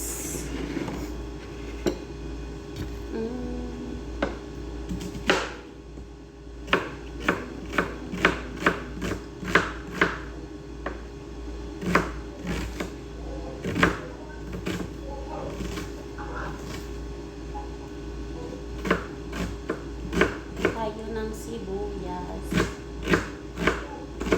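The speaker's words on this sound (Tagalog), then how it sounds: "maghiwa lang ako ng ano ng sibuyas." An onion being chopped with a knife on a board, a long run of sharp, fairly quick taps with short pauses, close and moderately loud, with a faint hum underneath.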